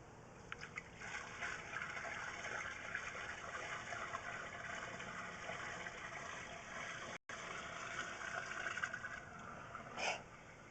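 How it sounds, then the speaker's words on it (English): Water rushes steadily through a drain line from the main lateral connection, a continuous gushing flow with a brief dropout partway and a small splash near the end, no talk. "And there's our water flow."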